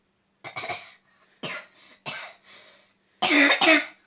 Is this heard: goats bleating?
no